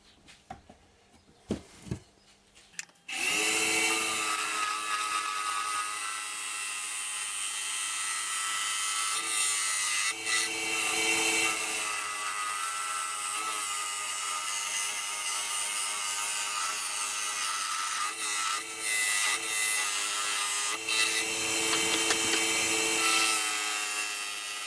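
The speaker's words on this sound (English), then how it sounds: "I'm just going to put a tenon on here so I can get the chuck back on" A piece of ash for an urn lid spins on a wood lathe while a tenon is turned, a steady close whine of the tool cutting that runs unbroken for about twenty seconds after a few quiet knocks at the start.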